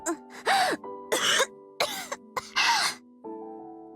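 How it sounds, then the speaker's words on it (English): A girl in a visual novel breaks into a coughing fit: several loud, harsh coughs and throat-clearing bursts in quick succession over a soft sustained music bed. "immediately launched into a coughing fit after she sat herself upright"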